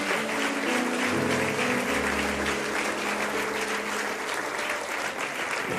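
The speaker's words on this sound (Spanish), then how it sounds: "Dele fuerte ese aplauso al Señor." A church congregation at a Sunday service claps loudly and continuously, a dense, close wash of applause that holds steady for several seconds with no speech over it.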